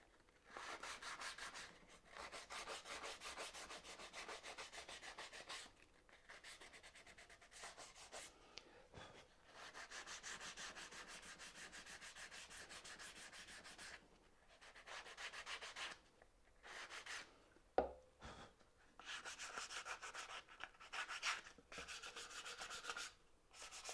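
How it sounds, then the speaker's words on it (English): Wood being hand-sanded with a small piece of sandpaper on a dovetail joint for a wall cabinet, repeated raspy back-and-forth rubbing strokes in bursts with brief pauses, close and quiet, with a single sharp knock partway through. "Little piece of sandpaper."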